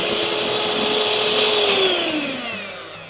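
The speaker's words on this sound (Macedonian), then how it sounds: "И сега направиме шлаг од белките." Electric hand mixer whipping egg whites for a gianduia torte, a loud steady motor whine close by whose pitch drifts and slowly drops toward the end; no talking.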